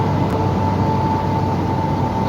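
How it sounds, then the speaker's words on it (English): Steady loud road and wind roar inside a car driving close behind a gravel truck on a highway, a continuous broadband rumble with a faint tonal whine and no distinct impacts of gravel striking the windshield standing out. "You should be able to hear the gravel hitting the windshield."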